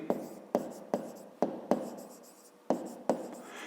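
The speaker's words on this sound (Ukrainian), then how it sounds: "записуємо тоді так" Pen strokes on paper during a fifth-grade maths lesson, seven sharp scratchy bursts at a steady, slightly uneven rhythm, close and fairly quiet with no talking.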